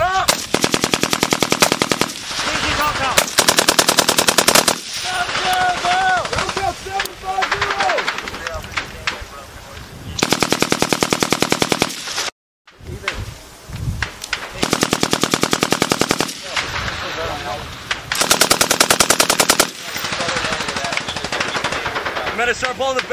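Machine gun fire during an infantry live fire exercise, loud sustained bursts repeating close by for many seconds with brief pauses, shouted commands from soldiers mixed in.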